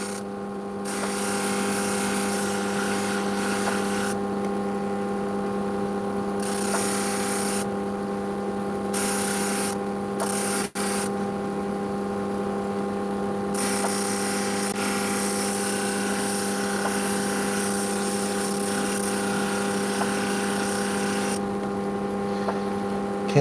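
A motorized sander grinds opal with a steady droning whine and constant low hum, the high grinding noise cutting in and out in bursts as the stone is pressed on and lifted; no one speaks.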